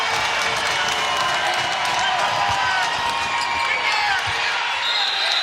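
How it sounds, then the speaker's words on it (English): Large home crowd at a Syracuse–VCU college basketball game roars after a go-ahead three-pointer, a loud sustained wall of cheering with some applause that holds steady throughout, a commentator's voice faintly mixed in. "the big Cuse crowd gets loud for the first time today"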